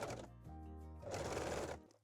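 Sewing machine running a zigzag stitch to attach stretched elastic along a bra seam allowance, a steady two-second whir that shifts pitch and speeds up partway through, close and alone.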